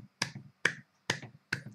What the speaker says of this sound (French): Applaudissez mes frères et sœurs.